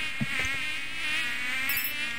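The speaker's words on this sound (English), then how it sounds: "Oh, mosquito swarm." A mosquito swarm in the Minecraft Hexxit mod gives off a steady, high, whining buzz that hovers close and never stops, with no voices over it.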